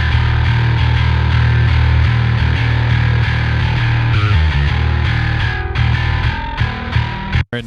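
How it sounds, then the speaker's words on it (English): A bass guitar played solo through the Parallax plugin for a modern heavy tone, thick and distorted with a deep, sustained low end, loud and continuous before cutting out near the end. "And this is the bass in solo."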